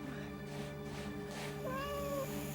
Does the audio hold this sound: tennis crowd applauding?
no